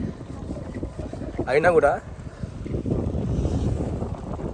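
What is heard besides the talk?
cold winter wind outdoors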